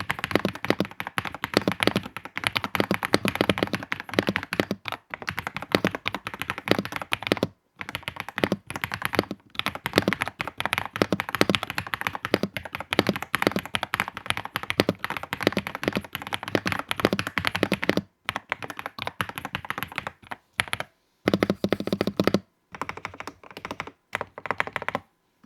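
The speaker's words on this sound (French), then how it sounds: "je vais vous laisser avec un petit sound test" Fast, continuous typing on an Epomaker Ajazz AK820 PRO mechanical keyboard, a dense close stream of clacky keystrokes with thockier spacebar hits and a few brief pauses, no voices.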